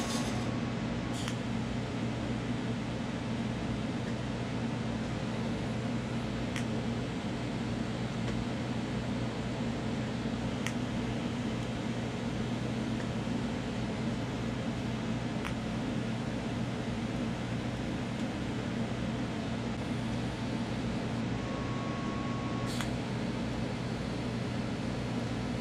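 Steady welding of steel such as chromoly, DOM or mild steel, a continuous even hiss and buzz holding at constant loudness throughout with a few faint clicks.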